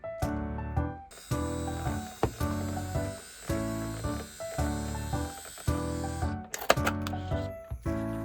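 A Rilakkuma label maker prints a label with a repeated mechanical whirring and ratcheting feed, loud and close, in evenly spaced pulses with brief pauses between them, with no talk.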